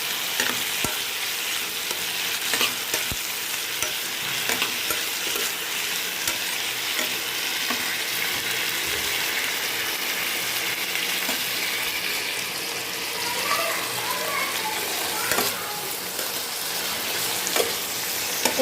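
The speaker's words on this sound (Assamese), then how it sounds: "এতিয়া ভাজি ল'ম অলপ দেৰি।" Chopped capsicum and tomato fry for chilli paneer, a steady close sizzle with occasional stirring clicks of a spoon against the pan, continuous throughout with no talking.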